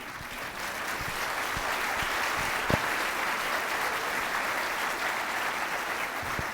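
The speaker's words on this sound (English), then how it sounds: "A big round of applause for everybody sitting next to you" Sustained applause from a large crowd at a Tea Party political rally in Dallas, Texas, dense and steady throughout with a few sharp louder claps.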